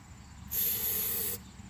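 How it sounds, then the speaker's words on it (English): A can of Flex Seal sprays in a single hissing burst just under a second long, close and fairly loud against a quiet room. "I just sprayed some on my hand!"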